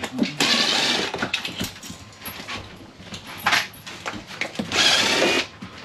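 A power drill drives a screw during a heater install on a snowmobile trailer, sounding in several short whirring bursts with pauses between them, close by and fairly loud.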